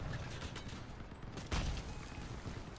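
Rocket volleys firing in the vehicle combat video game Crossout, a dense rattle of launches with one louder blast partway through, heard over steady game rumble without talking.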